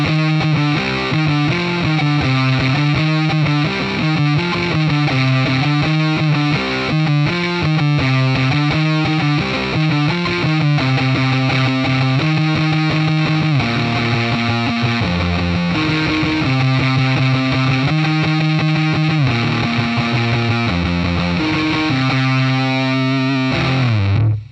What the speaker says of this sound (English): This is the grey phase in the distortion section, which is the fuzz phase, and then we're running into the Blues Deluxe amp and the matching cabinet.